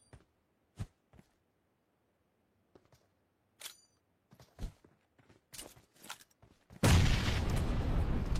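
A grenade detonates in a video game: scattered clicks and footstep-like taps lead up to a sudden loud, close boom that rolls into sustained broadband roar through the final seconds.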